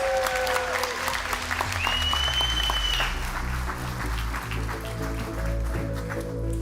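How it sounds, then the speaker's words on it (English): Audience applause for award recipients at the Momentum24 keynote: a dense, steady wave of clapping from a large crowd that carries on throughout, with sustained musical tones playing underneath. "let's give all of our award recipients one more round of applause"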